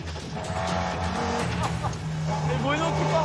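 Audi Quattro S1 Group B rally car sliding with tires skidding, loud engine drone and squealing tires up close, with a voice talking over it.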